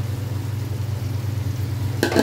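Marinated soya chunks in a yogurt masala frying over low-medium heat in a pan, a steady close sizzle throughout, with a brief louder burst of clatter and crackle near the end.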